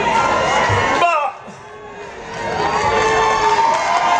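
A live concert crowd at a show at ArtPark cheers and whoops loudly, briefly dipping before swelling again, with a voice over the roar.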